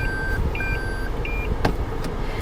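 Reverse parking sensor warning of a 2019 Toyota Camry 2.0 G, a series of short, high electronic beeps in an even rhythm over a low car cabin rumble, no talk.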